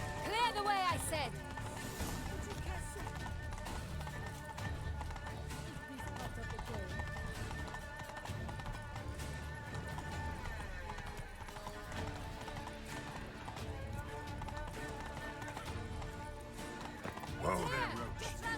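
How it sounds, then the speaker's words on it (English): Horse hooves clip-clopping at a steady run in The Witcher 3 video game, close and continuous under game music, with occasional whinnies and a voice speaking over the gallop. "Whoa there, Roach. Just round the corner"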